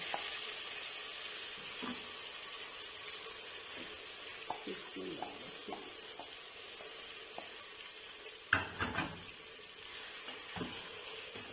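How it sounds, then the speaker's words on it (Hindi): Marinated mutton fries in hot oil for a Mughlai mutton curry, a steady soft sizzle broken by scattered clinks and scrapes of a spoon stirring, with a few sharper clatters near the end. "हमने मटन जो है वो करके रखा हुआ है मैरिनेशन, वो जो है इस ऑयल में डाल देंगे"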